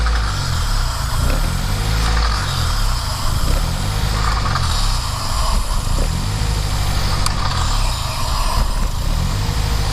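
A 2006 Scion xB car engine idling loudly and steadily, a low rumbling drone with slight fluctuations and no voices.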